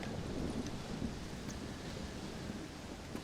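A thunderstorm in the video game Undead Nightmare rolls as a steady low rumble with a rain-like hiss over it, fairly faint and continuous, with no voices.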